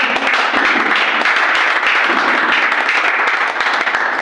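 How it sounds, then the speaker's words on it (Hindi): Loud, sustained applause from an audience at a teachers' felicitation ceremony in a school hall, dense steady clapping that stays strong for several seconds, close and without speech. "जोरदार तालियां दीजिए"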